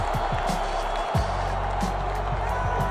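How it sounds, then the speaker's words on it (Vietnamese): Tunisia football fans celebrating in a stadium at a World Cup match against France: a dense, steady crowd roar with scattered shouts and thuds, fairly loud throughout. "Còn đây là không khí khi mà các cổ động viên Tunisia ăn mừng"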